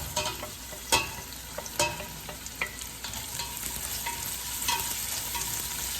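Onion frying in a pan while the cook prepares two dishes: a steady, close sizzle runs throughout, with a few sharp scrapes and clacks as the onions are stirred.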